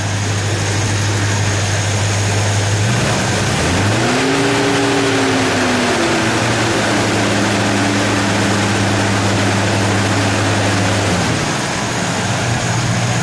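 A 1978 GMC K15 truck engine idling loudly up close, then revving up and holding a higher steady pitch for several seconds before dropping back to idle.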